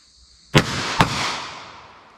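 Two sharp, loud .38 handgun shots about half a second apart, each followed by a long reverberating tail that fades slowly.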